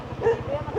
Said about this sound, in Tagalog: Yung aso po, hindi nangangagat.